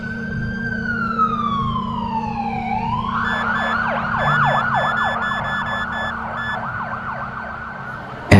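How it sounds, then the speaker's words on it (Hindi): An ambulance siren wails loud and near, first a long falling tone, then a rapid repeating yelp cycling over a steady low road rumble, ending in a sudden burst. "एम्बुलेंस की सायरन"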